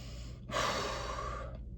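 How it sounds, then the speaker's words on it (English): Close up, one person draws a single long, deep breath, then lets it out, loud and airy over faint background hum. "Deep breaths, guys, deep breaths."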